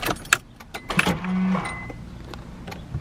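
Power window motor on a Nissan 240SX whirring briefly, with a short, close electric hum among clicks and interior handling noises.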